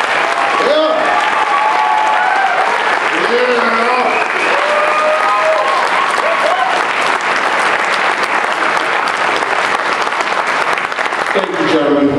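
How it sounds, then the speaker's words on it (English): Loud, sustained audience applause filling a hall at the Mr KCS 2014 pageant, with cheering and whooping voices rising over the clapping throughout. "So I'd like to give them a real nice round of applause, please"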